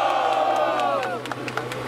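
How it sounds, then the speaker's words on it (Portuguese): A crowd at a rap battle cheers and shouts loudly throughout, a dense roar of many voices with scattered whoops rising over it. "Quem acha que deu Kael, faz barulho"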